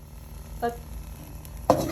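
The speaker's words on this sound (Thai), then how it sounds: "เอาตะเกียวกับกระเทียมที่สับไว้ลงผัดก่อนนะคะ" Chopped lemongrass and garlic are stir-fried in a pan, with two brief scraping stirs and a faint background sizzle, close and quiet otherwise.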